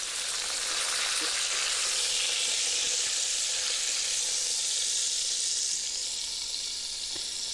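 Meat browning in a cast iron Dutch oven, a steady close sizzle and crackle of frying fat with faint occasional pops, continuous throughout.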